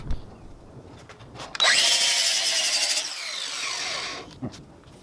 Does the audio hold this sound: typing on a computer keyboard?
no